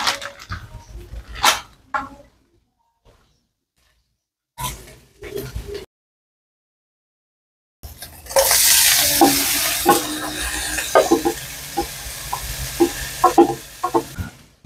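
Food stirred and frying in a pan, a loud sizzling hiss that builds in the second half with spatula scrapes, after scattered sparse knocks and near-silent gaps.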